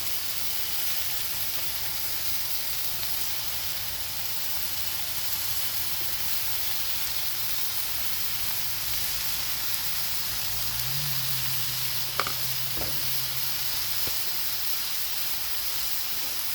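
Cooked rice sizzles on a hot Blackstone griddle for chicken fried rice, a steady, even hiss throughout, with a faint clink of a utensil near the end and no talking.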